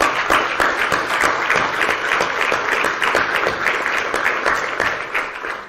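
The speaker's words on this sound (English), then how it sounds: "why don't you stand up and give them an applause?" A standing audience applauds newly promoted police sergeants and civilians at a sheriff's ceremony, with loud, continuous clapping from many hands that carries evenly from start to finish and eases slightly at the close.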